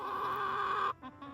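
A farm chicken clucks loudly and close by, with a sustained run of throaty calls that breaks off into two short softer clucks.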